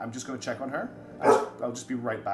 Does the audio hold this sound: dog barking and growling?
yes